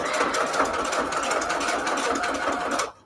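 A sewing machine runs a steady zigzag stitch through felt for a Valentine's embellishment, with a continuous close mechanical whir and no break until it stops abruptly at the very end.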